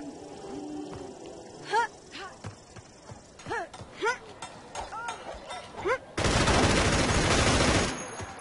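Gunfire from an AR-16 rifle and a Winberg in the ShowDown Effect video game: scattered sharp shots with ringing tails through the first six seconds, then a dense loud burst of sustained fire lasting nearly two seconds.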